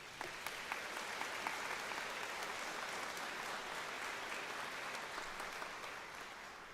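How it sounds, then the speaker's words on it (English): A large audience at a 2024 Clarke University commencement claps in sustained, dense applause that holds steady and fills the hall from start to finish. "Please give them a round of applause."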